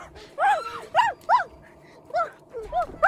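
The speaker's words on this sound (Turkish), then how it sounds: "Havlıyor bak bak." A dog barks in a short series of sharp, loud, close barks, about seven in quick bursts with brief pauses, heard alone without talk.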